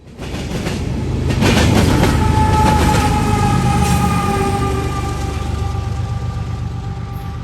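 A Union Pacific freight train with AC-45 locomotives rumbles past close and loud, a steady heavy roar with clattering wheels and drawn-out tonal horn or brake notes sustained throughout.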